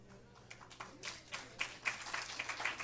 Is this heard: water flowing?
no